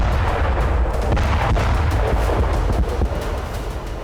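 Israeli military strikes and explosions in Gaza rumble in a dense, continuous barrage, heavy booming artillery-like blasts overlapping with sharper cracking impacts, loud and unbroken throughout, with no speech.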